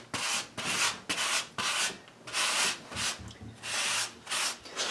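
Filler compound is rubbed and forced into ceiling or floor cracks during closet finishing work, making about ten rhythmic scraping, rasping strokes close up, loud and steady with brief pauses between them.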